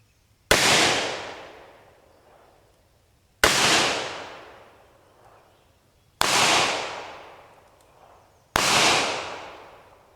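.38 caliber revolver shots with X-Treme copper plated bullets: four sharp, loud reports spaced about three seconds apart, each followed by a decaying echo.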